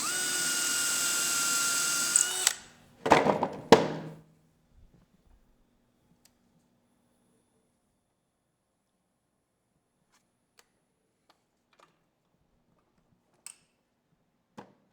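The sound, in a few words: power drill with brad point bit drilling bowl center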